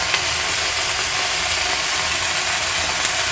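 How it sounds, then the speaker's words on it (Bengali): Small whole potatoes frying in hot oil give a steady, dense sizzle that holds at an even level throughout, with no voices. "ভাজা হচ্ছে।"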